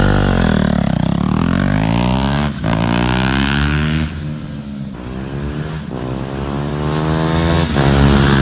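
A single-cylinder motorcycle exhaust revs loudly up close, climbing in pitch through repeated throttle blips with short drops between them, then settles into a rough, thumping idle before rising again.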